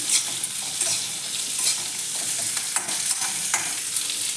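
Cumin and tamarind dry-roasting together in a pan, with soft frying crackle and repeated scraping stir strokes, close and moderately quiet, no voices.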